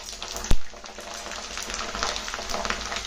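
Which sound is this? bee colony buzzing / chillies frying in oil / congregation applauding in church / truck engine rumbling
chillies frying in oil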